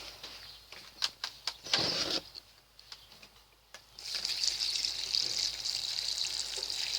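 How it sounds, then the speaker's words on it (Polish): Warm water is poured over a garlic spray mixture with a little liquid added, starting with scattered drips and taps, then a steady hissing stream. "Dajemy trochę płynu i zalewamy to ciepłą wodą."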